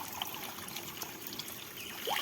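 Clear natural spring water running strongly after the monsoon onset trickles and burbles in a continuous close stream, swelling slightly at the end, with no one speaking.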